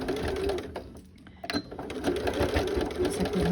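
A sewing machine stitches slowly through four layers of jute canvas with iron-on interfacing, making a close, regular mechanical chatter. A brief pause comes partway through.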